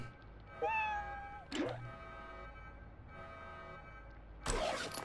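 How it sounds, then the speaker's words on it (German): A cat's meow from the video game Fallout Shelter, with one drawn-out tonal cry over faint game ambience, punctuated by a couple of sharp, brief clicks. "was ist mit deiner Katze los?"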